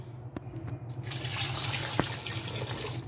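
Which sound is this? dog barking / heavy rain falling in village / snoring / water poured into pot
water poured into pot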